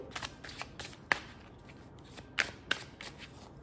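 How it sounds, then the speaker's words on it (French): Tarot cards shuffled and drawn at close range, a few soft papery slides punctuated by sharp snaps, quiet overall, with no voice. "je prends 3 cartes du tarot"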